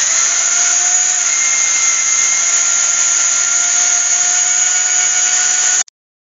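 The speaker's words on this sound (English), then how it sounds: "So I'm just going to sand that now by with a power sander." A power sander works on a gnarly old piece of hawthorn wood, giving a loud, steady, high whine that runs without a break for about six seconds, then cuts off abruptly.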